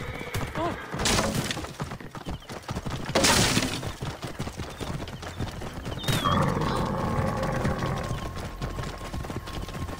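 Horses galloping during a chariot-style race in Assassin's Creed Origins, with rapid clip-clopping hooves, a sharp crash or shattering impact, and a whinny, all loud and busy with game ambience throughout.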